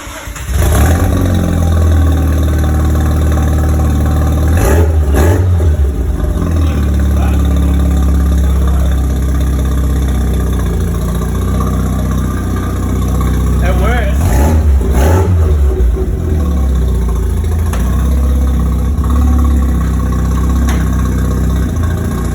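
A loud, raw car engine with no exhaust fitted revs hard several times, the roar swelling and dropping, with voices talking underneath the noise.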